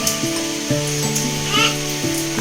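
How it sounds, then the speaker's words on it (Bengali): Spice tempering poured into khichuri sizzles steadily in a kitchen, a bright hissing fry mixed with stirring, while a tonal melody plays alongside. "এবার দিয়ে দিচ্ছি হলো খিচুড়িতে ফোড়ন"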